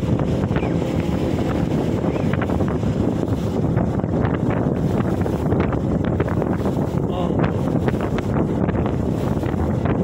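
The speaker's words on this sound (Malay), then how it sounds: "Kuat sangat angin ni, kuat sangat alun." Strong wind buffets a small fishing boat at sea during bottom-drift micro jigging, a dense continuous roar of gusts and rough waves slapping the hull, loud and steady throughout with no voices.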